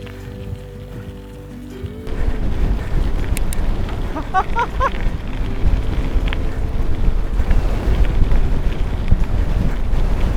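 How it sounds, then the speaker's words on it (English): Steady, heavy wind roar buffets the microphone almost throughout while cycling into a strong westerly headwind, jumping louder after the first two seconds and staying rough and continuous. "it is so windy, westerly, and we're riding right into it"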